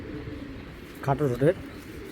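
Giribaj pigeons give a brief, low, throaty coo over a steady background hiss, rising for about half a second and then fading.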